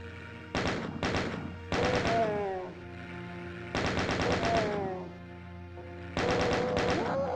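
Gunfire from the jungle map of the game Scythe 2, sniping the last chain gunners: four loud bursts of rapid shots with pauses between, a longer burst near the middle, with a tonal in-game sound layered over them.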